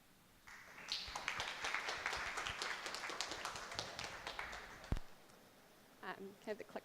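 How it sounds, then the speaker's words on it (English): Audience applause as a speaker walks onto a conference stage, clapping that swells and holds for several seconds, then fades before voices take over near the end. "A round of applause as she comes to stage."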